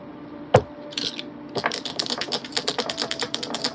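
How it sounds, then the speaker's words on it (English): Small astral dice rolled and rattling on a hard surface, with one sharp knock followed by a run of quick, light clicks and clatters close by, no talking. "Let me roll some astral dice here."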